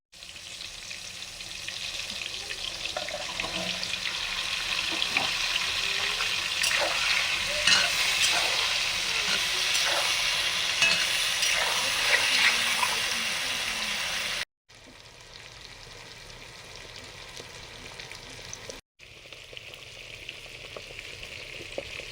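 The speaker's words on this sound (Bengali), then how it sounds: "পটল ঢেঁড়সগুলো ভাজা হলো" Pointed gourd and okra coated in salt and turmeric fry in a pan, a loud steady sizzle with occasional stirring scrapes, cut off by brief gaps near the end.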